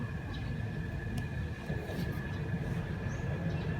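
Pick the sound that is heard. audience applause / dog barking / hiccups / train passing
train passing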